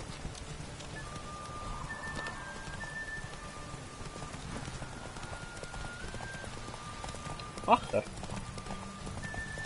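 Hooves of a galloping horse in The Witcher 3 keep a rhythmic clip-clop beneath someone talking, with a faint whinny-like tone and a brief louder thump near the end.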